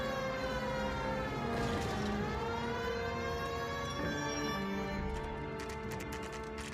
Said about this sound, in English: Man, I have the sirens on and no one's moving out of the way.